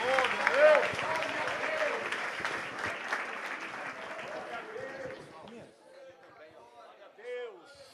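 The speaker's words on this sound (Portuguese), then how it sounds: "Vamos dar mais um aplauso ao Senhor." Church congregation applauding in praise after a choir song, a dense wash of clapping that thins out after a few seconds, with crowd chatter and a voice running over it.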